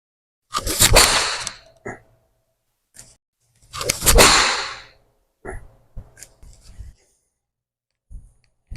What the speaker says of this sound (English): You can hear that swoosh through the golf ball.